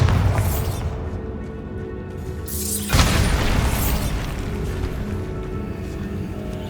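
A Bombarda blasting spell erupts in the Hogwarts Legacy video game, a loud booming explosion that jumps out about halfway through a dense, continuous wash of game sound.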